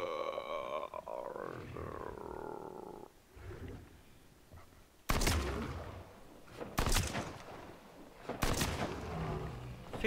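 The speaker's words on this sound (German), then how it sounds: "Hat eben drei Schüsse gebraucht, um einen Hunter zu töten." Several sharp, loud bursts of gunfire in quick succession from the video game Nether, three shots killing a Hunter, clustered in the second half after a stretch of humming, game-like tones and quieter noise.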